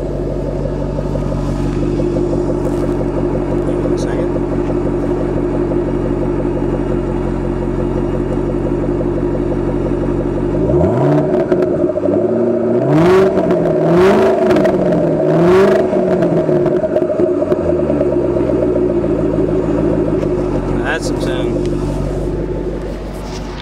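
A white 2012 Ford Shelby Mustang SVT 500 coupe idles with a deep, steady rumble, then gets several sharp revs around the middle that rise and fall before it settles back to idle. The engine is loud and close, with no talk over it.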